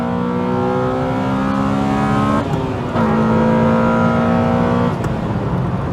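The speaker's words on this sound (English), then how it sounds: "Let's hit some VTEC." A nearly stock Honda EK9 Civic Type R screams as its engine climbs in revs into VTEC, rising in pitch, dropping briefly at a gear change around midway, then pulling hard again, loud and close.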